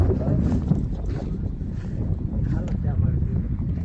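Steady, heavy wind rumble buffets the microphone throughout in a village farm field, a constant low roar with faint voices underneath.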